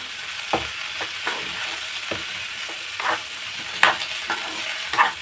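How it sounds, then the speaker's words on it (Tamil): Potatoes sautéing in a pan, a steady frying hiss broken by regular scrapes and knocks of a spoon stirring against the pan, close and even in loudness. "நல்லா வதக்கிக்குவோம்."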